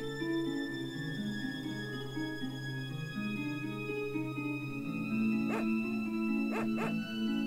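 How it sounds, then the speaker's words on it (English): A dog barking in the 1990s role-playing video game Secret of Evermore, several short bow-wow barks near the end, set over a steady game music backdrop. "Show us, sacred dog."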